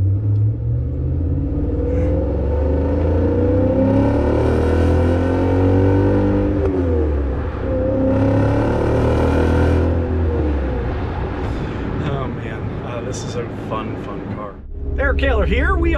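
A BMW E39 M5 fitted with the Dinan S2 Signature package revs and pulls through its gears while driving, a loud, steady engine drone with someone talking over it throughout.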